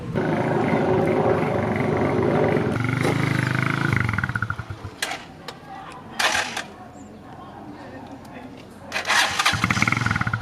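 A motorcycle engine cranks and catches in bursts, revving up loudly near at hand, dropping away, then roaring again in short surges while people talk around it.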